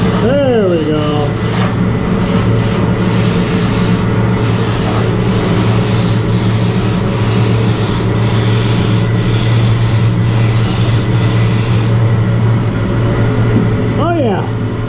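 Spray gun painting inside a DIY paint booth built from a shed, giving a loud, steady hiss that runs continuously and close, with a brief break in the spray near the end.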